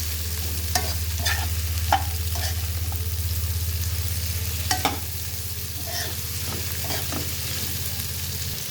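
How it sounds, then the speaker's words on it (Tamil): Cabbage stir-fried in a pan for no-onion, no-garlic paneer fried rice, with a steady low sizzle throughout and repeated scraping, clattering stirs of the spatula at close range. "நல்லா ஒரு கலந்து விட்டுக்கலாம்."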